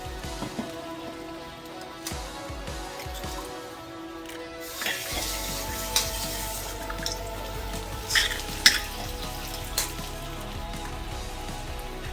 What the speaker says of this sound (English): while my vegetable is frying